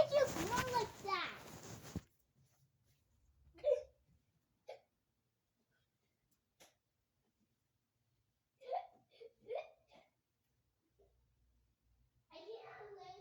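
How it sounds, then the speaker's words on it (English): A child hiccups several times, short sharp gulping bursts spaced irregularly, some single and some close pairs, after someone speaks at the start; the rest is quiet apart from faint background sounds. "did you get hiccups"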